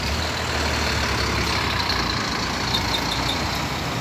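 Buses rumble at the Belo Horizonte bus terminal in Minas Gerais at night, with a steady, loud low-pitched engine drone and hiss and no clear breaks, heard close.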